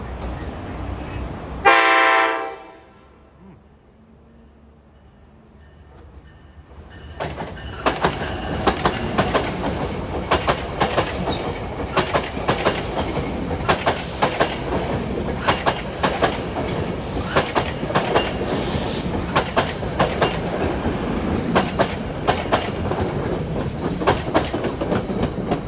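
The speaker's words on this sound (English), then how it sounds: "Sound his horn before hitting the platform." A loud passenger train horn blasts briefly as it approaches a platform, followed after a short lull by a passing train with rhythmic clickety-clack and rumbling wheels that continues steadily.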